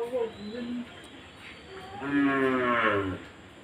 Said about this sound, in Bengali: কিন্তু বুঝতে পারছি না কিসের জন্য গরুটা ডাকছে।